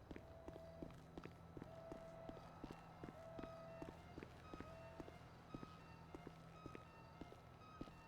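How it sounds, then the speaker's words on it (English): A military-grade alarm in a NoPixel roleplay game repeats as steady tonal beeps in a regular pulsing rhythm, layered over constant footstep-like thumps and background game noise. "That's like just like a military grade alarm."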